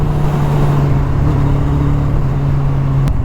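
Motorcycle riding along a road among other traffic, with a steady engine drone and constant road and wind noise throughout.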